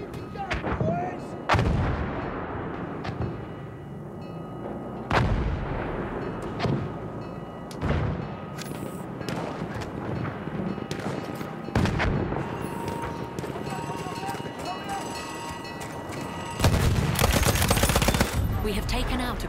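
Artillery barrage in the World War I shooter Battlefield 1 on PS4, heavy booms and gunfire cracking in irregular bursts over a continuous battle rumble, with a loud sustained volley near the end.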